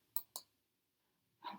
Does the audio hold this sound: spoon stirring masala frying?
no